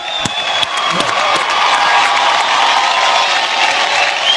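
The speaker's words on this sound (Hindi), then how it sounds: "तो आज की शाम की शुरुआत करते हैं आपकी जोरदार तालियों के साथ।" A large award-show audience claps loudly and steadily, with a few brief whoops and cheers lifting out of the applause.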